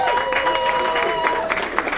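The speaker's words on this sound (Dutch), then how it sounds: "Applaus voor Davai Percussion" Audience applause for a percussion duo at a classical music festival afterparty, dense steady clapping with some cheering and voices mixed in, fairly loud throughout.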